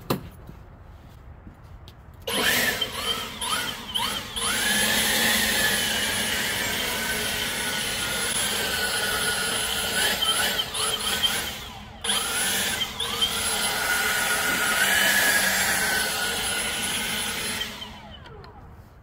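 A leaf blower blasts dust off a bowl of moss, a loud whining motor roar that starts after a quiet moment, cuts out briefly midway and then resumes before stopping.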